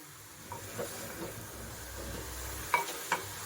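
Vegetables with a pinch of turmeric being stirred in ghee in a pan, a soft steady sizzle with faint scraping strokes and a couple of sharper spoon clinks near the end.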